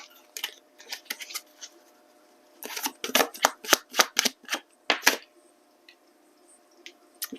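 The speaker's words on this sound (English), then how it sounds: "Now let's grab another card here from the Exposed 2 deck." Cards from the Exposed 2 tarot deck are shuffled and drawn, giving a quick run of crisp slaps and flicks clustered near the middle, close and fairly loud, with quiet gaps on either side.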